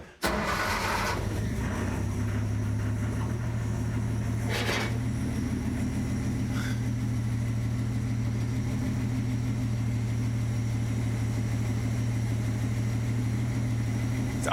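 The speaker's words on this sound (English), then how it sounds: "It's idling super rough." A 1949 Studebaker engine idles roughly after a carburetor swap, with a steady low throbbing drone, a brief starting burst at the beginning and a few faint clunks over the uneven running.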